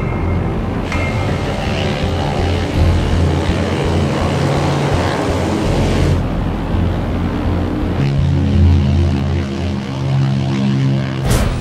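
Twin piston engines of a 65-year-old Curtiss C-46 transport drone steadily in flight on a long run, a loud, continuous propeller roar with deep throbbing harmonics that shifts pitch slightly partway through.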